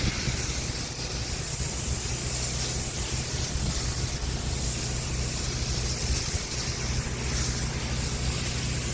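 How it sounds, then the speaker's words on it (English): Water sprays onto plants in a steady, broad hiss, close and continuous, with no breaks and no talking. "So we are gonna wet the hell out of the plant."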